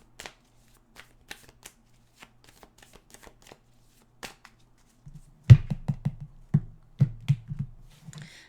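Tarot cards being shuffled by hand, starting with sparse light taps and flicks, then turning into a closer run of louder riffling bursts in a quiet room.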